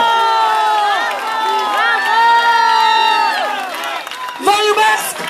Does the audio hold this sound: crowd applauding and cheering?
yes